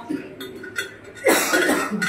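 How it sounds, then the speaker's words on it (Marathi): A person coughs nearby, a few short harsh bursts followed by a louder, rougher fit, with talk around it. "खोकला काय लागायला लागला एवढं?"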